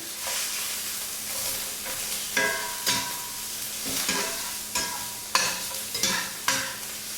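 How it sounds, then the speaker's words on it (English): Beef fat for carne guisada sizzles in a hot pan with a steady hiss. Several sharp utensil scrapes and knocks recur every second or so, close and without any talk. "every time I try to cook the fat up like this so it can release the juices"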